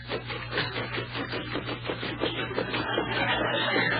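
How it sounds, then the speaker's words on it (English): Radio sound effect of a shirt being scrubbed during washing: rapid, rhythmic rasping strokes of fabric rubbed back and forth, steady and close over a low broadcast hum, with no voices. "When that shirt you're washing is snow white. But it's a green shirt. Keep scrubbing, Burns."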